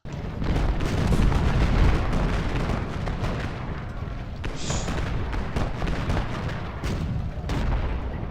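Artillery and musket gunfire from the Ultimate General Gettysburg battle game, a dense continuous barrage of booms and rolling cracks at steady loudness, with scattered sharper shots on top and no talk.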